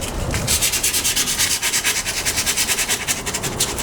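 Sandpaper roughs up a rust repair area near the fuel filler cap on a MK2 Golf, a close, rapid back-and-forth rasping with an even, rhythmic stroke pattern.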